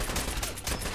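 Gunfire in the video game Fallout 4, a brief burst of several rapid, loud shots cracking in quick succession within a single second.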